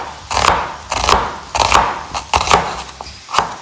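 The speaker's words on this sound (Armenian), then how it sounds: "Հիմա շատ արագ կմանրացնենք սոխը։" A knife slicing an onion into thin half-moon pieces on a board for tzhvzhik, about seven crisp, evenly spaced cuts heard up close with no talking.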